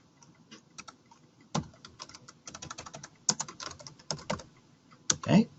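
Irregular keyboard typing at a computer while entering names into project management software, a series of sharp close clicks in short bursts with brief pauses and no voice over them.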